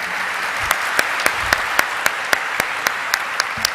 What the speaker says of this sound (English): And that calls for a huge round of applause